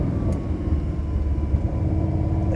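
A car engine rumbles low and steady at close range as the driver shifts down into second gear, without the pitch rising or falling much.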